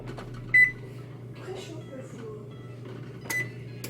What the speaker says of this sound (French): Ouais, je dois réchauffer le four.